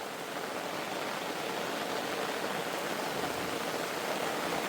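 Steady rain falls on a village, a continuous broadband hiss of drops on surfaces, even and moderately loud throughout with no voices.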